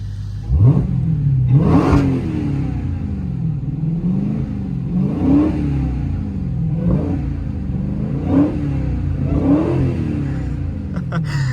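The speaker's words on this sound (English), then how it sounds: "Did you guys hear the supercharger whine?" A 2023 Dodge Challenger Hellcat Jailbreak engine starts and revs repeatedly in rising and falling surges, with a high supercharger whine riding over the rumble, moderately close.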